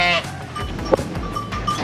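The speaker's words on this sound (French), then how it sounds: "du coup, on a rentré les moutons" Sheep just brought into a pen on a farm give a short bleat near the start, followed by quieter shuffling, a second faint call and low background noise.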